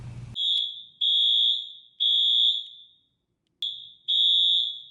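A loud fire alarm beeps in a steady pattern of long, piercing tones with short gaps, about five blasts in quick succession, with a brief noise burst at the start and no talking.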